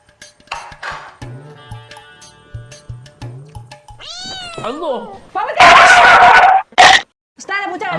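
A house cat meows and wails several times, loud and close, interleaved with people talking in a domestic comedy scene.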